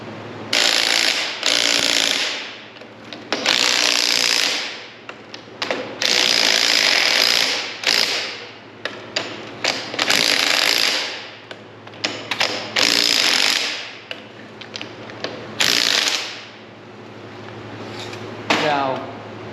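Ratchet tightening new nylon-locking strut nuts during a MotoFab lift kit install on a 2007-2014 GMC Sierra, heard as repeated bursts of ratcheting clicks with pauses between, fairly close and loud over a steady low hum.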